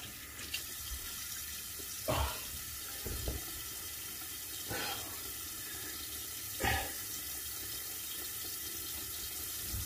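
Water from a tap splashes softly in a sink during shaving-brush rinsing, a steady faint flow with a few brief louder splashes.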